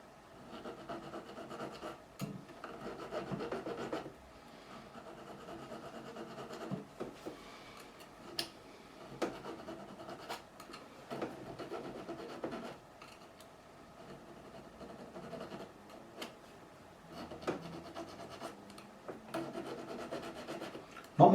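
A file rasps at the fret ends of a 1973 Gibson Les Paul Custom neck, quiet close scraping strokes in irregular bursts with short pauses between them.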